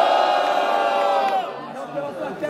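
A rap battle audience at the Batalha do Coliseu bursts into loud, sustained cheering and yelling that starts strong and gradually thins out, with a few scattered voices near the end.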